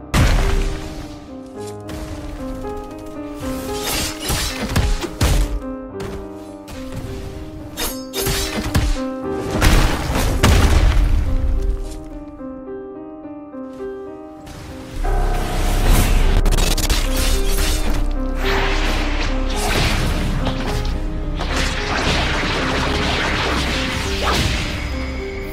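Roblox The Strongest Battlegrounds fight as a dummy attacks a player, loud continuous game audio with repeated whacks, smashes and whooshing swipes over dense background music, briefly quieter midway before surging back.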